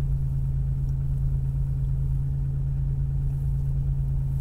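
A 1997 Chevrolet Monte Carlo LS idles after a cold start, a steady low engine hum with a strong, even drone that holds without change throughout.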